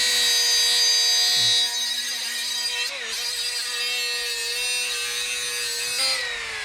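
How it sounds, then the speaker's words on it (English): A cutoff wheel slowly grinds through a Mustang fuel line, a steady high-pitched whine close up that dips briefly as it bites, then carries on. "You want to do this slowly, let the cutoff wheel do the work"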